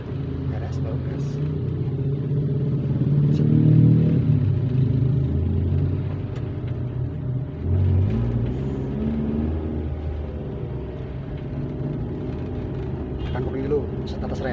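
A manual car pulls away and accelerates during a driving lesson, its engine a steady low rumble that swells and settles, heard from inside the cabin while people talk over it.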